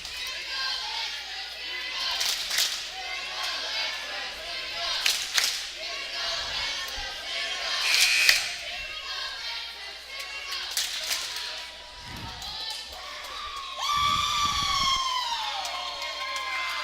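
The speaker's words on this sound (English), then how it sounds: "The Lancers have a really good crowd tonight." Home Lancers crowd at a high school boys varsity basketball game against Eleva-Strum, chanting and cheering steadily for the whole stretch, with loud claps, whistles and shouts, and a rising squeal or whistle near the end.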